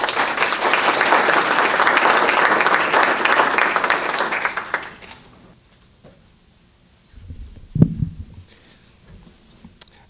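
An audience applauds to welcome speaker Christian Knoeller at the Sowell Conference. Steady, full clapping lasts about five seconds, then stops sharply, followed by a quiet room with a few faint thumps.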